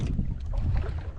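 Strong wind buffets the microphone with a steady low rumble, mixed with faint water and boat noise outdoors while fishing.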